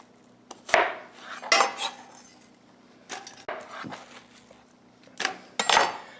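Knife chopping vegetables into big quarters on a cutting board while cooking Korean spicy chicken, a handful of sharp, spaced knocks and clinks with quiet pauses between, close and dry.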